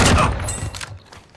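Gunfire in a video game, a burst of loud close shots at the start that fades into a decaying tail and trails off to near quiet, no talking over it.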